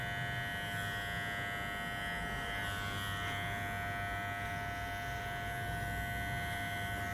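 A Wahl Legend hair clipper hums steadily while fading hair around a hairline at the zero setting, a constant close buzz with a fixed pitch and no breaks.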